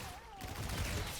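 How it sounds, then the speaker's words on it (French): Submachine gun fire in Call of Duty Infinite Warfare Zombies, a brief, dense burst of rapid shots over game sounds. "on peut prendre une petite mitraillette comme ça"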